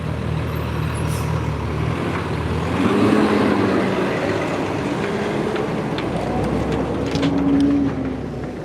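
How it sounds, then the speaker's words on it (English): A truck rolls past on a city street outside a courthouse. Its engine and tyres make a steady, fairly loud rumble that swells twice as it goes by, with no talking. "let this truck pass, and then we'll come back on screen."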